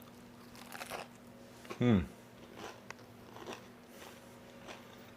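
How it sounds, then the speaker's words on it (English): A single crisp bite into a flaky buttermilk biscuit lands loud and close near the middle, with a short crunch over quiet background talk. "Let's dig into these buttermilk biscuits."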